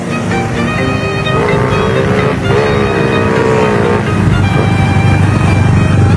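A Rs125 motorcycle with a 6.0 lift cam and 57 port head in a basic touring setup, its engine held at steady high revs, loud, close and continuous throughout.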